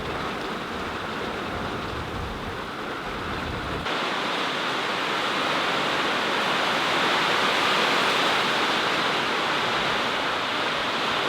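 Heavy thunderstorm rain pounds a tin garage roof as a loud, steady roar that swells and thickens after the first few seconds, with no voices.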